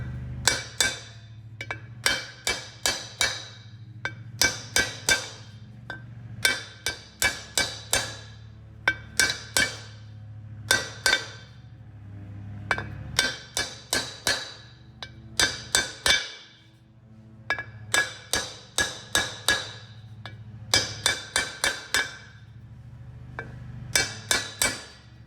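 A hammer drives a bearing in without a press in bursts of sharp metallic blows, several rapid strikes per group with short pauses between, close and ringing over a low steady hum.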